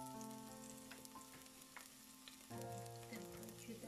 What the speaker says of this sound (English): Once the oil is hot, we put the garlic.